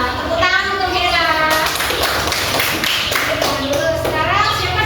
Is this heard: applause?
yes